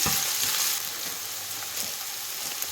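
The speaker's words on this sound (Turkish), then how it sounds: "biberler kızarmaya başladıktan sonra" Green peppers sizzle and fry steadily in a hot pan while menemen is being made, a dense, continuous close crackle with no talking.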